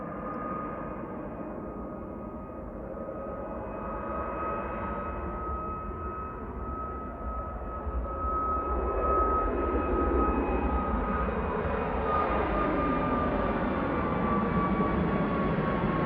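Airliner 9H-VUQ on its takeoff roll at Manchester, bound for Alicante: a distant jet engine roar with a thin whine, swelling gradually and growing louder and fuller toward the end, with no talk.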